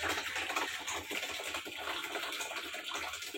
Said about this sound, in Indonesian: Nah ini sedang mengisi ya teman-teman. Nah ini keluar airnya